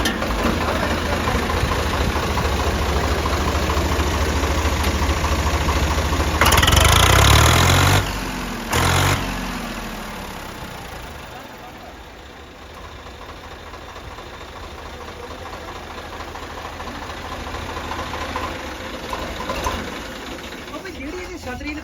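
A Swaraj tractor engine at a fair cranks and catches, then settles into a steady, close chugging idle that runs throughout, with a brief louder burst early on.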